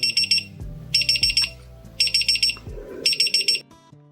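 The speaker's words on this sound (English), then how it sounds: "there goes our cute little alarm clock" A small desk accessory alarm clock goes off with four bursts of rapid, bright electronic beeping, each a quick cluster of pulses separated by short gaps, close and alone.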